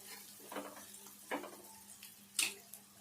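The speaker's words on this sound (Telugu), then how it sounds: "ఈ ఉల్లిపాయ అంతా ఇట్లా దగ్గరికి వచ్చినాక ఒక్కసారి ఇట్లా కలుపుకొని" Onions frying in a pan for a tomato and egg gravy, stirred a few times with quiet scraping clatters over a faint, low sizzle.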